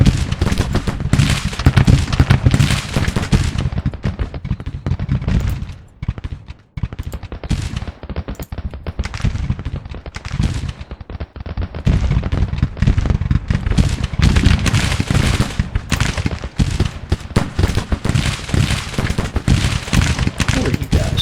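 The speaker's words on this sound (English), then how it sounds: "Get some rounds down range." Rifle volleys crack through a Civil War video game battle, loud and near, in repeated ragged salvos with a brief lull, while players talk over the shooting.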